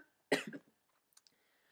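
A single close cough during a comic book live stream, a sharp burst followed by a couple of faint small clicks and near silence.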